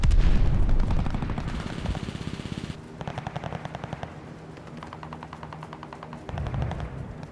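Sustained automatic gunfire and rapid shots from a World War II Hardpoint match in Call of Duty: Vanguard, loud and dense throughout, with bursts stopping and restarting and heavier booms near the start and end.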